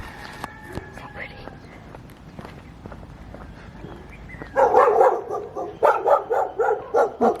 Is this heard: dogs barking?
yes